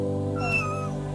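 A young female kitten meows once in a rising, drawn-out cry, close and clear, over a steady low hum in a vet clinic.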